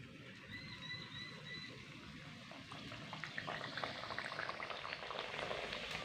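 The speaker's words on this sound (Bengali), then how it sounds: "এবার এক এক করে এই লুচিগুলো তেলের মধ্যে খুব সুন্দর করে ছেড়ে দিচ্ছি" Palm-flavoured luchi, a puffy fried bread, frying in hot oil in a wok, giving a steady bubbling sizzle that swells somewhat louder partway through, heard close with no talking.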